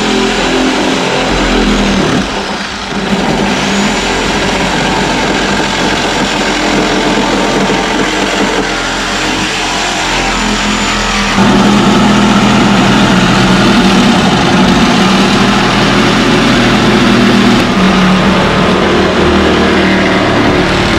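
Steady mid-pitched mechanical whir of a power saw cutting through the sheet-metal body of a VW Golf 2 during a pickup conversion, loud and continuous, with a brief dip early on and a heavier, lower drone in the second half.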